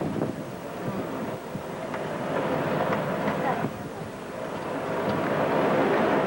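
Wind blowing outdoors, a loud continuous rushing roar buffeting close against the microphone, swelling slightly and staying steady throughout.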